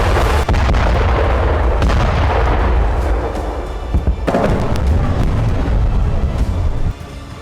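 Artillery fire and explosions from the Russia-Ukraine war thunder loudly and continuously, with repeated heavy booms over a dense rumbling roar, and no voices.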